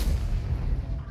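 A tank cannon shot in World of Tanks bounces off armor, giving a heavy, close boom with a deep, thudding low end and a short rumbling tail, over low background noise.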